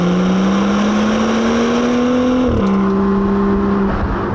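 A BMW M2 engine pulls hard under acceleration, a loud rising drone that climbs steadily, dips at a gear change, then rises again, heard close from inside the car with no talking.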